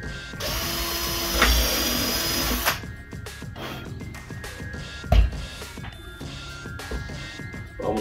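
A power drill whines loudly for a few seconds while drilling into an ice skate boot, then stops, followed by quieter handling clatter and a sharp knock.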